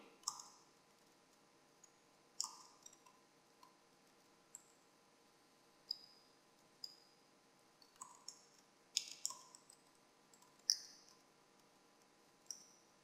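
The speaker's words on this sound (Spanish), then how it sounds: "Pulso una vez la tecla tabulación para empezar un poco más hacia adentro y escribo el código." Keystrokes on a computer keyboard while writing VBA code in Excel 2010, heard as sparse, irregular clicks with short pauses between them, faint and close, with no other sound.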